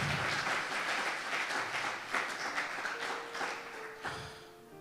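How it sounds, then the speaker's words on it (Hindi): Congregation applause at a church service, a dense, continuous wash of clapping from many hands that swells and gradually thins out, with no voices on top. "जोरदार तालियां बजाएं"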